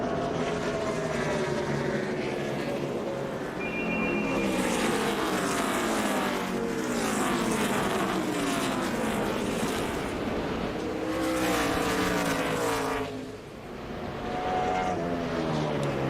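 NASCAR Nextel Cup stock cars racing hard at New Hampshire, a loud continuous engine roar with repeated rising and falling pass-bys as the field sweeps past, layered and sustained throughout.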